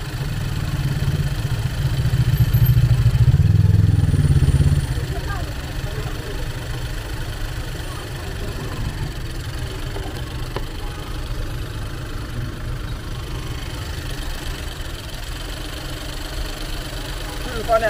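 A Honda car engine idles with a failed alternator that is not charging, a low, steady rumble that swells louder for a few seconds early on, then settles into a quieter, even drone close by.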